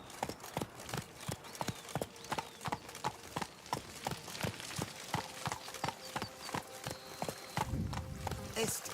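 Roach the horse galloping in The Witcher 3, a steady rhythmic hoof clip-clop beating throughout, with faint game ambience and some speech.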